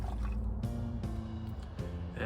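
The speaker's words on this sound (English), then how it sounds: "I can hear water flowing into the new housing" Water pours and trickles into a newly installed pool pump basket housing after a freeze-damage repair, a steady close liquid filling sound with some low hum and faint voice-like tones underneath.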